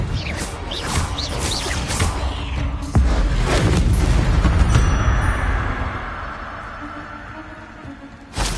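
Confringo blasting curse fired in Hogwarts Legacy: a loud, booming burst with a whooshing rush and crackling debris, followed by a fading rumble and a faint final thump.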